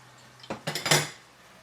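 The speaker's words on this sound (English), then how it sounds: "we're gonna give this a mix" A utensil clinks and scrapes against a pan while stirring a creamy lemon and white wine sauce for chicken: a quick cluster of four or five close metallic knocks, then quiet.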